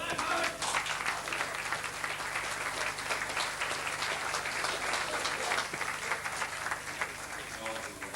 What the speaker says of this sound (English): would you please give a round of applause and a welcome to another champion, Cormac O'Toole, Castlebar